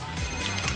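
A mobile phone ringtone plays from inside a purse, a brief bright electronic ring at moderate loudness with no speech over it.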